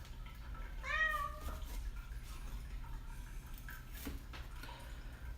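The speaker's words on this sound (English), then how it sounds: "You may be able to hear that I'm minding somebody's cat at the moment." A house cat meows once, clear and fairly close, with a rising-falling cry, then small kitchen clatter follows in a quiet room during jerky preparation.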